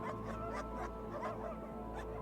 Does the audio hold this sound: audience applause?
no